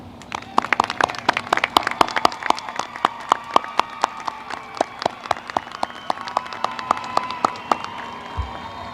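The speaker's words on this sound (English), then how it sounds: "Please turn towards your families and applaud them for their support." Graduates at a high school graduation ceremony clap for their families, a crowd's crisp sharp claps ringing out in a steady uneven patter that carries on throughout, with a faint background hum.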